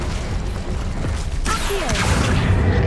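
Incendio fire spell cast in a Harry Potter video game: a steady rumbling mechanical bed, then a sudden whooshing burst of flame with sweeping crackles that sustains loudly to the end.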